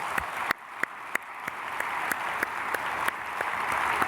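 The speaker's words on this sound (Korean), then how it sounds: "우리 박수로 축복하겠습니다" A church congregation at a dawn prayer service applauds steadily, with dense clapping sustained over several seconds and a few sharper claps standing out.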